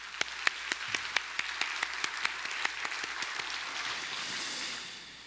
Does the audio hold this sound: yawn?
no